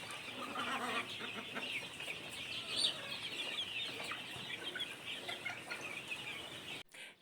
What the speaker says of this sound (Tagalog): Siyap nga ng siyap yung mga bagong babang sisiw